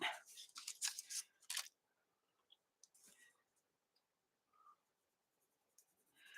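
A green colored pencil scratches across paper in quick bursts of strokes, close and quiet, with pauses between them.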